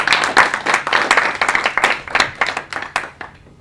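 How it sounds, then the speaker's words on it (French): A live audience at an evening talk claps for a speaker in a steady burst of many hands. The applause is close and dense, then thins out toward the end of the few seconds. "vous pouvez l'applaudir aussi"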